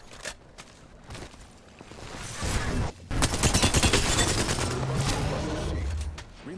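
Heavy automatic gunfire in Apex Legends, sparse shots at first, then dense sustained bursts after a short pause, loud and close with clattering mechanical noise mixed in.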